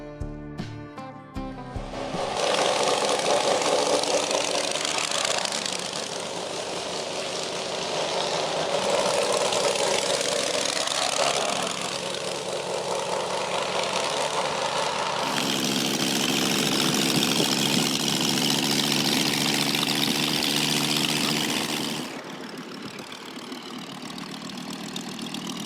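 A one-of-a-kind German 5-cylinder side-valve engine, each cylinder with its own carburetor and exhaust, runs steadily with a loud, rough, broadband roar that holds for a long stretch before dropping away near the end.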